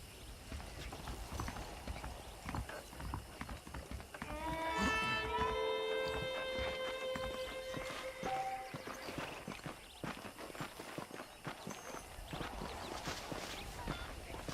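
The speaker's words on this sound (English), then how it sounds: "Okay, let's see if you can still ride a horse." Horse hoofbeats from Red Dead Redemption 2: a steady clip-clop of a saddled horse walking, heard under game music with a rising musical phrase in the middle.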